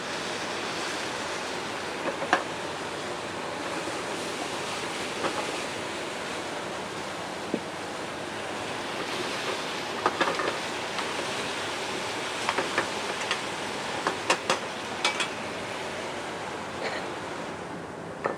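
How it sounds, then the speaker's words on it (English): Plum wine hits a hot pan off the heat, setting off a steady hiss with scattered sharp crackles and pops that last throughout. "We're going to deglaze the pan with a little bit of plum wine, always away from the fire."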